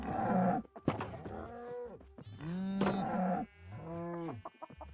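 Blocky Minecraft cows and sheep call out in a game pasture. Several drawn-out moos and bleats come one after another with short gaps, clear and close, with no talk over them.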